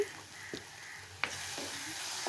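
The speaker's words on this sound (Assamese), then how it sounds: "বিলাহীখিনি দি কিছু সময় ফ্ৰাই কৰিব যাতে বিলাহীখিনি একেবাৰে কোমলি যায়" Tomatoes frying in a pan with salt give a soft, low sizzle, broken by a few light clicks of a spoon against the pan, with no talking.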